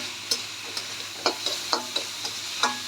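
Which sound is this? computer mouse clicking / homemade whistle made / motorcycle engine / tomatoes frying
tomatoes frying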